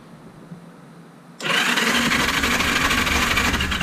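An old motorcycle engine that has not run in 35 years is cranked over without firing. The first part is quiet, then a sudden loud, steady whirring churn continues to the end.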